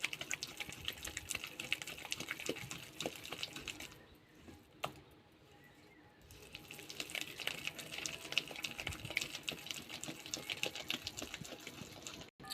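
Lentil batter being whisked briskly by hand for fritters, a steady close stream of rapid wet beating sounds that pauses for about two seconds midway before resuming at the same pace.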